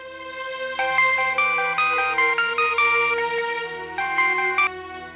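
A phone ringtone plays a bright, repeating electronic melody of stepped tones, loud and clear for several seconds with a brief pause before it resumes, no voices over it.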